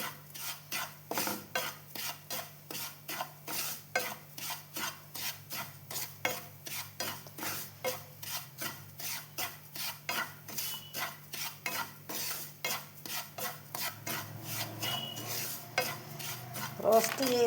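Semolina roasting in ghee in a pan is stirred with a spoon in a steady, regular scraping rhythm, each stroke a soft close rasp repeating many times over a faint low hum.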